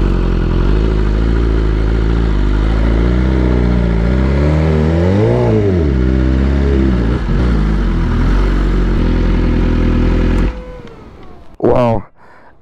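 A BMW S1000RR sport bike engine revs loud and close, rising and falling in pitch as it accelerates, then cuts off abruptly, with wind noise and a brief final rev.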